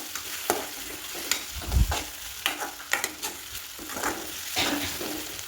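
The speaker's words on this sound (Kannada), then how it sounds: "ಮತ್ತು ಮಸಾಲ ಪುಡಿ ಹಾಕಿ ಮತ್ತು ಮಿಕ್ಸ್ ಮಾಡಿ ಚೆನ್ನಾಗಿ." A spoon stirs horse gram curry with masala powder in a pan, giving repeated scraping strokes at irregular intervals over a low sizzle. The strokes are close and distinct, with no voices.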